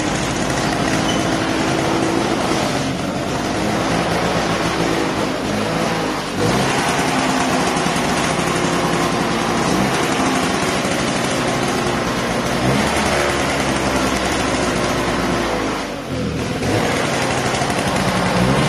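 A Peugeot 103 Chrono moped engine starts and runs, a loud, steady, close buzzing two-stroke drone that holds throughout with small revving swells and a brief dip near the end, and no talk over it.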